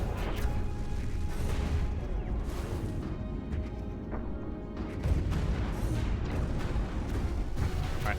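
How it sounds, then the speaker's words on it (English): Space battle in an alien politics strategy video game, dense rumbling explosions and crashing impacts rolling continuously with loud bursts and brief dips, no talking. "I'm seeing some big booms."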